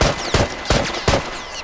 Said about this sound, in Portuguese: Agora você pode já começar a atirar aí com controle turbo